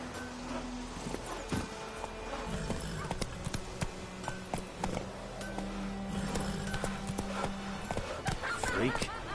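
Hooves of Roach, a horse in the video game The Witcher 3, clop steadily at a run through the whole stretch, layered with game music and ambient sound while voices talk over it.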